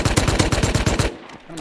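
Rapid automatic gunfire in the survival game Rust, a tight burst of about nine evenly spaced loud shots over one second, then quieter game ambience.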